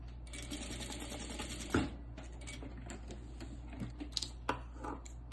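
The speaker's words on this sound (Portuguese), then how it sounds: "E passa a costura aqui com um pé de máquina." A sewing machine with a presser foot stitches a seam on a cloth diaper, giving a soft, quick ticking rattle, with a sharp knock partway through and a few clicks near the end.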